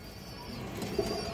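A red-marked female pigeon gives a soft, low coo, one short call against a quiet background hiss.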